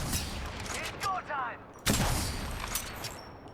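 .45 pistol gunfire in a video game, a handful of sharp shots in quick succession, one loud crack standing out midway, mixed with game sound effects.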